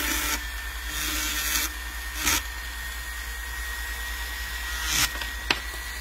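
Rotary burr carving a metal bezel for a ring, a steady high whine of the tool with several brief louder bursts as the bit bites, close by and without talk.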